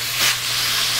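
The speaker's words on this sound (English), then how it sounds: "Quick saute." Pre-cooked lo mein noodles getting a quick sauté in a hot pan with meat, vegetables and mushrooms, a brief close burst of hissing sizzle and steam that swells slightly and then holds steady.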